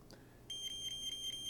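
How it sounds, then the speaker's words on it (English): After a short pause, a steady high-pitched electronic tone begins, pulsing in rapid, even beeps from a nearby high-frequency signal detector. "for this video, we will put it on the beeping sound"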